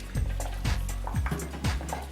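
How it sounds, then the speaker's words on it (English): Steak juices poured onto a platter give a soft, close liquid gurgle and splash, with about four pulsing glugs over two seconds and no speech. "Just pouring some of the lovely juices on it."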